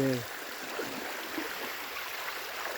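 Flood water flows around houses in Assam, a continuous close rushing and gurgling stream with no pause.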